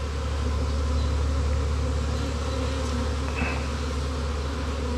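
Honey bees buzz loudly and continuously at close range during a bee removal from a house, a dense, droning swarm hum with no talk.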